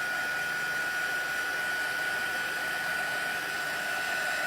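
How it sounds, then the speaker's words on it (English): A heat tool blows steadily to dry ink on a Christmas craft banner, giving a loud, continuous hiss with a high whine that holds level throughout, with no talking. "you can take your heat tool and just give it a quick,"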